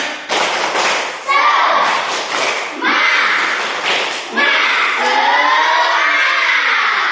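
A class of children performs the rhythmic "tepuk semangat" clapping chant, loud group claps and taps in bursts alternating with shouted, sing-song chanting voices, close and energetic throughout.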